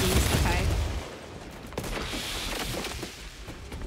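Gunfire in Space Marine 2 aimed at spore mines, a dense burst of shots at first and then scattered cracks, loud, with a voice talking over parts of it.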